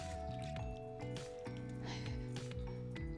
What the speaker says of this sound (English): What we're going to do right now is submerge our hands in this